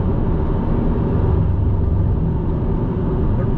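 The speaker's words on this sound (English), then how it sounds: "you just leave it in third gear as we're going through these twisty bits" A 2022 Subaru WRX held in third gear on twisty roads produces a steady, loud low engine drone with constant road rumble, unbroken for the whole stretch.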